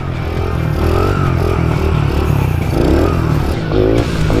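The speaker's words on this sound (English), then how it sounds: "Circle wheelie action." A Honda Grom motorcycle doing circle wheelies gives a loud, close, continuous engine drone with shifting revs and some rattling, heard alone.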